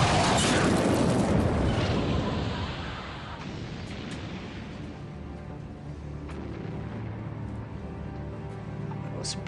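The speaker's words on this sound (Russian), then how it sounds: "И внезапно раздался взрыв." A heavy explosion on a wartime convoy ship at sea booms loudly, then settles into a long low rumbling roar that persists with scattered crackles.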